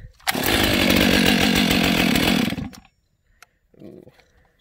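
A Stihl MS 500i fuel-injected chainsaw fires on a pull-start with the chain brake on, roaring loudly for about two seconds before cutting out, followed by a brief faint knock and a short low rumble.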